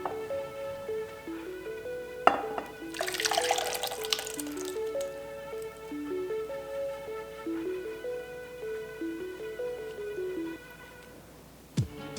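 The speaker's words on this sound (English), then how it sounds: "we're going to pour all the sauce into here now" Marinade sauce is poured into a storage container of eggs for Korean mayak gyeran, a short liquid splash and pour of about a second, set against soft background music.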